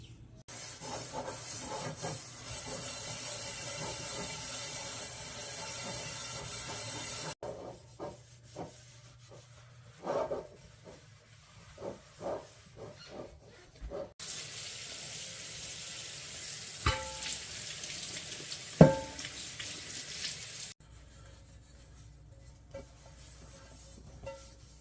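A vintage cast iron skillet scrubbed with water, giving steady rough rubbing and swishing strokes in bursts, with brief pauses, knocks and clatters between passes, close up and fairly quiet.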